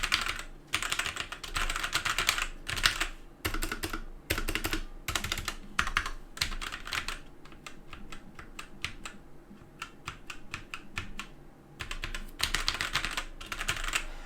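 Steady typing on a TECWARE Phantom mechanical gaming keyboard with red switches, close up, with bursts of rapid keystrokes and brief pauses, no voices.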